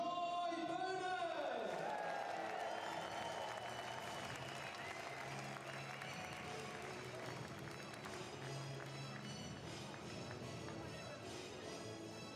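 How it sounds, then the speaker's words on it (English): Crowd applause and cheering for the podium finishers of a 3,000 m speed skating race at the World Championships in Inzell, a broad, sustained roar filling the arena, with an announcer's voice over it at the start. "Give them one more big applause."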